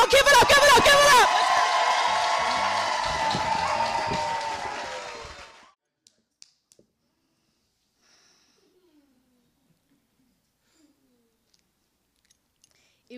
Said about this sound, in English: Let's keep that applause going for Christine Cordero